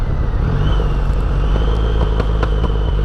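A Triumph Rocket III motorcycle engine idles with a steady, deep low rumble close by, holding a constant loud drone with faint ticking on top.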